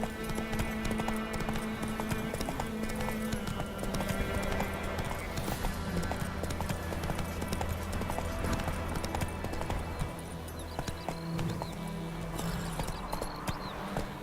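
A horse gallops in The Witcher 3, its hooves clip-clopping in a fast, steady rhythm over continuous game music and ambience, with brief pauses and shifts in pace.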